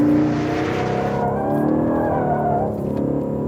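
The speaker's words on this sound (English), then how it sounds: "just let the car accelerate on a steady throttle" A car's engine note climbs steadily on a held throttle as it drifts through a slide, with tyre scrub and road roar throughout; loud, close and continuous, the tone rising and the high hiss fading partway.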